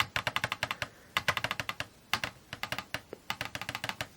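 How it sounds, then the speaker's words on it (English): Small LEGO typewriter mechanism clacking as its parts move, a quick run of light plastic taps and clicks in irregular bursts with short pauses, close up and fairly faint, with no talking. "makes a little clacking noise."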